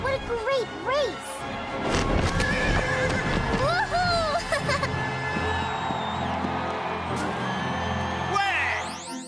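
Cartoon horses racing neigh and whinny in shrill calls over galloping hooves that clip-clop steadily, with crowd noise and scattered voices mixed in, and a swooshing rush near the end.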